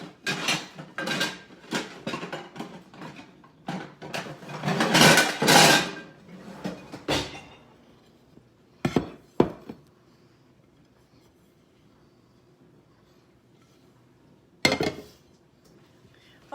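A metal baking pan clanks and scrapes on a countertop as an apple cider doughnut cake is flipped out of it, with clusters of rattling knocks, then a few isolated sharp thuds between stretches of quiet.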